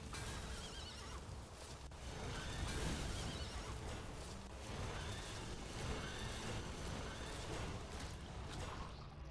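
Massed horses in a video game whinnying and neighing over a dense, continuous roar of hooves and clatter, loud and unbroken from start to finish.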